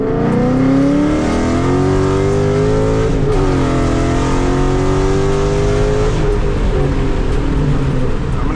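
A 2014 Ford Mustang GT pulls hard from second gear at 20 to 30 mph, its engine note climbing in steady rising sweeps with a brief shift dip, loud and close throughout with road rumble beneath.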